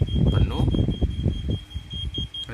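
The buzzer of an IoT water level monitor goes off when the tank reaches its full level, a steady high electronic tone that runs through the whole stretch under continuous talking.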